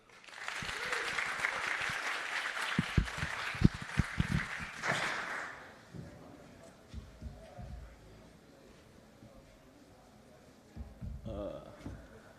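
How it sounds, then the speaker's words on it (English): Audience applause at a Devconnect conference main room, a dense burst of clapping for roughly five seconds that then thins into scattered claps and room noise before a few late claps near the end. "Please give a good applaud for Izzy."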